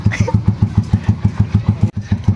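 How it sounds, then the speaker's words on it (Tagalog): A 125cc motorcycle fitted with an SC Project exhaust revs hard in rapid, evenly spaced bursts, a loud, deep, throaty pulsing close by, with a brief cut near the end before it picks up again. "ganyan siya kalakas. 125 lang pero tunog 1000cc"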